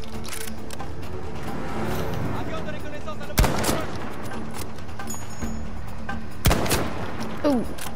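Gunshots in a shooting video game, with two sharp, loud single shots standing out against steady background game noise and a brief later crack.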